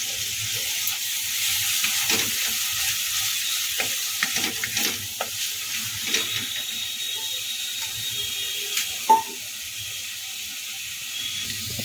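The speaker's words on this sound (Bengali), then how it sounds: "এখন বেট করে রাখা টমেটোটার মধ্যে দিয়ে দিলাম আবারও মিনিটখানেক সময় ধরে ভালো করে নেড়ে চেড়ে নেবো" Tomato stirred into cauliflower masala frying in a pan: a continuous close sizzle with repeated scraping and clicking stirs, one sharper knock near the end.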